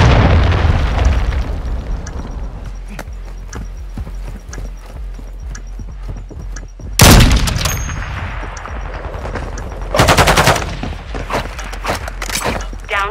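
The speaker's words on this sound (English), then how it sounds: "Enemy cruise missile incoming." A cruise missile strike in Call of Duty: Modern Warfare II during a ranked Search and Destroy match lands as two loud booming blasts around the middle and near the end, over a steady rumble of game noise, footsteps and gear clatter.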